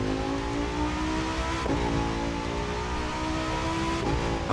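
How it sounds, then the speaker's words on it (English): A car engine in The Crew 2 video game drones steadily with rising revs, its pitch climbing smoothly, then dipping and climbing again with each gear change, loud and close throughout. "Oh, your car sounds so nice."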